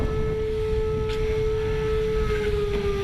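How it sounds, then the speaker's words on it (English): A steady, droning tornado siren sounds from a distance during a city siren test, holding one sustained tone. "the city even tested the tornado sirens during our time here"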